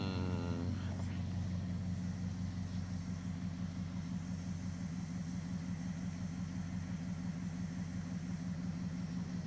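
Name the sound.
Dodge Charger engine revving and idling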